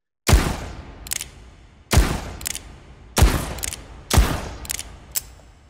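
Nagant revolver firing in the VR game H3VR, four loud sharp shots spaced about a second apart, each followed by a lighter mechanical click or two of the action, with no talking.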